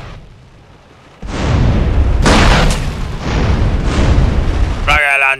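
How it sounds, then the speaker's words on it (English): A rocket launcher explodes in GTA San Andreas with a loud, sudden blast that rumbles on, a second explosive burst, then a sustained roar and a short tonal game sound at the end. "Rocket launcher for the win, baby."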